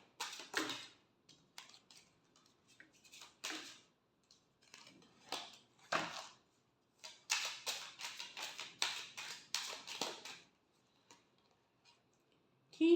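Tarot cards are shuffled in short riffling bursts, each a crisp papery flutter lasting about a second. They come in separate clusters with quiet gaps between them, and the sound is close and fairly soft, with no talking.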